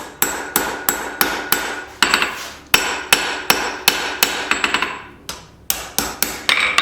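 Rapid, ringing hammer blows shape a forged candle holder handle on an anvil, coming in quick bursts of closely spaced strikes with short pauses between groups, loud and near.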